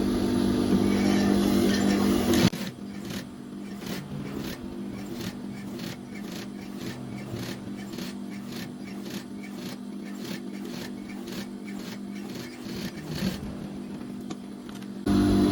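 A sewing machine stitches the neck facing of a garment, a fast rhythmic mechanical clatter running steadily for several seconds between quieter stretches.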